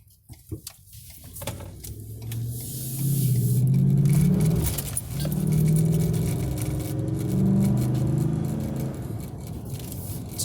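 A Ford F150 engine with a Spectre cold air intake idles, then swells into a smooth, fairly quiet low rumble and whir that rises and settles in waves, heard close up.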